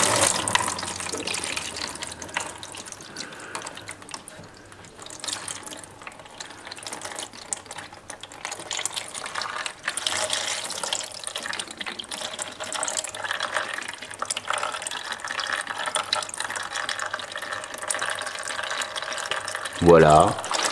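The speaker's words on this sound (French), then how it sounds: "Du liquide de refroidissement va couler lorsque vous allez retirer votre durite." Coolant drains in a steady, noisy trickle from a hose pulled off a Nitro/Aerox scooter engine into a catch tray, continuous for about twenty seconds with a brief louder splash right at the end.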